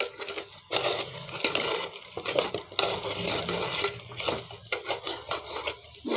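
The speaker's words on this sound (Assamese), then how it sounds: "এহাতে মোবাইলটো লৈ এহাতে হিলাই আছোঁ যে দিগদাৰ হৈছে ভালকৈ হিলাবলৈ" A spoon stirs dal in a metal pot on a gas stove as salt and turmeric go in, with continuous scraping and clinking against the pot and a faint sizzle underneath.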